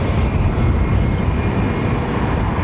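Jet aircraft taking off at London Heathrow Airport, a loud steady broadband engine roar that holds evenly throughout with no voices.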